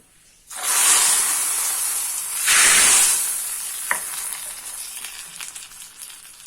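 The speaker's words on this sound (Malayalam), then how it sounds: "ഇപ്പം കടുക് പൊട്ടി. ഇനി നമുക്ക് കറിയിലേക്ക് ഒഴിക്കാം." Fried mustard seed tempering poured into an elephant yam curry bursts into a loud, hissing sizzle that surges again a couple of seconds later, then fades to a softer crackle with a single sharp clink.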